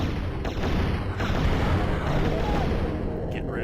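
Sustained gunfire from a weapon strafe in the remastered Turok: Dinosaur Hunter game, a dense continuous roar of shots and booms filling the whole moment, loud and unbroken, without any talking.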